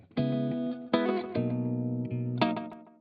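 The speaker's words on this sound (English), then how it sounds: "So we've got one option is the clean input gain" A guitar loop runs through an Arturia Delay Tape-201 tape delay plugin with clean input gain, producing a few sustained, bright chords with soft echo trails, alone and fairly quiet.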